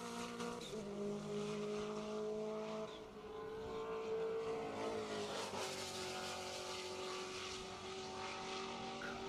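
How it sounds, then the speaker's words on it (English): A race car's engine drones loud and steady as it launches into a hot lap at a Road Atlanta time attack event, its pitch sliding briefly as the driver shifts, then climbing again. "here comes Amir down 12 to start his first hot lap"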